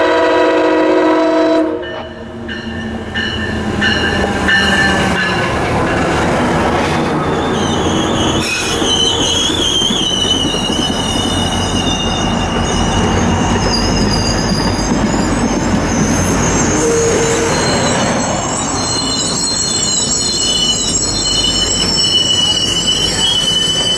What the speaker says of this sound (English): P881, the last Martinsburg-bound train, makes a station stop here at Brunswick for the night.